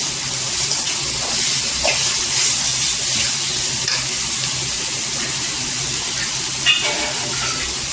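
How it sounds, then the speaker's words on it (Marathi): Ginger-garlic paste sautéing in hot oil for an egg masala curry: a loud, continuous, close hissing sizzle that holds steady, with a few faint scrapes. "अद्रक लसूणची पेस्ट टाकायची दोन चमच तेलावर परतून घ्यायची"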